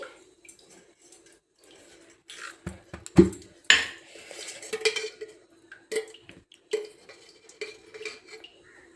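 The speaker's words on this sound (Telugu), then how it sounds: "ఇప్పుడు స్టవ్ మీద ఒక కడాయి పెట్టి" A kadai pan is set down on a stovetop while making an amla spice powder, giving a few loud metallic clanks and knocks around the middle, with lighter clinks and faint kitchen rustling on either side.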